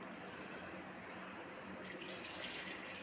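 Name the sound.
pouring water into a pot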